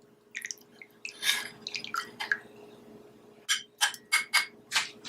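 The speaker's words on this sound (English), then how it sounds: "we're going to strain this directly into the cup" Infused drink strained straight into a cup, heard as a run of bright drips and small splashes, first scattered and light, then a series of five or six louder, evenly spaced pours near the microphone, with no voices.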